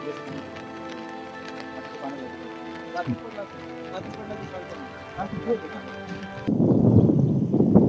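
Rain falls steadily with soft patters, a low background hum and faint voices, then grows into a heavier, closer rush of rain for the last second.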